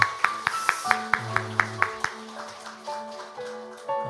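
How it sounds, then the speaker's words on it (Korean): A small church congregation claps in response to the pastor's call, sparse individual claps that start out sharp and regular and then thin out, with faint tones and a voice toward the end. "한 해 동안 우리 수고하신 분들에게 박수 한번 보내주시겠습니까?"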